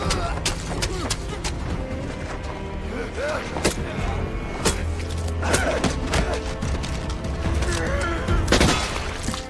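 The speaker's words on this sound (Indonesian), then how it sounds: "mendengar suara tembakan" Gunfire erupts in a film scene as scattered sharp bangs and crackling shots amid rumbling impacts and thuds, with voices talking underneath.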